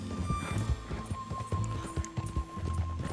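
Hooves of a thoroughbred horse in a video game, a steady clip-clop of hoofbeats over an ongoing game soundtrack, near and moderately loud.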